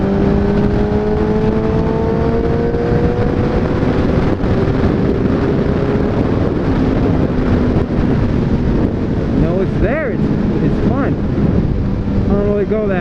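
A 2013 Suzuki GSX-R 750 motorcycle pulls hard from speed with a steady, rising engine whine under heavy wind rush, loud and continuous throughout.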